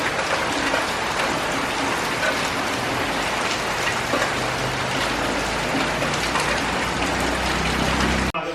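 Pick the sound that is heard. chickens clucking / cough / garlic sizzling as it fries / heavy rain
heavy rain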